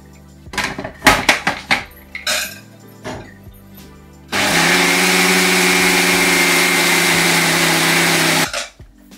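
Several clattering knocks and bangs, then a mixer grinder grinding urad dal whirs loudly and steadily for about four seconds before cutting off.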